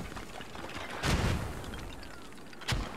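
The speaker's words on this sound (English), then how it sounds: "we are seeing these mortars impact here" Two heavy mortar impacts in the Squad video game, the first a broad rumbling blast near the one-second mark and a sharper second hit near the end, both rising out of a low constant battlefield background.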